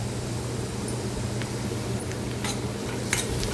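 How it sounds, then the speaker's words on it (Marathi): Onion and crushed garlic sautéing in oil for gavarichi bhaji (cluster bean curry) make a steady, close sizzle, broken by a few bright spatula scrapes and clinks against the pan. "कांदा व्यवस्थित परतून घ्यायचा आपल्याला तेलामध्ये कांदा थोडासा परतून झाला त्याच्यामध्ये आपल्याला हा टेचलेला लसूण आहे तो टाकायचा"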